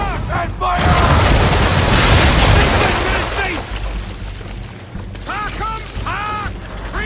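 Assassin's Creed III ship cannons firing round shot in a broadside, a loud sustained roaring blast up front fading into rumble, with ship creaks and shouted voices over the tail.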